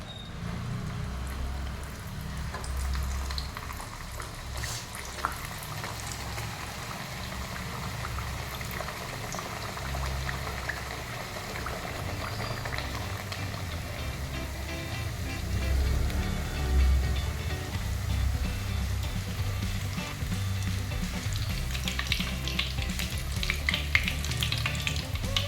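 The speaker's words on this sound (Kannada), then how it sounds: "ಎಣ್ಣೆಯಲ್ಲಿ ಬಿಡ್ತಾ ಇದ್ದೀನಿ" Puris deep-frying in hot oil one at a time, a steady bubbling sizzle with low rumbling boil, fairly close and continuous, no talking.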